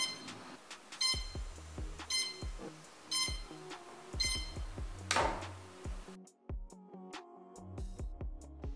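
Electronic speed controllers on an APM 2.8 quadcopter emit calibration tones: repeated short beep sequences, a run of ascending tones, then more beeps, fairly quiet with a brief noise burst in the middle.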